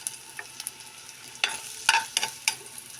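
Garlic sautéing in a frying pan gives a steady sizzle, broken by a few sharp stirring scrapes and clacks close by, with no voices.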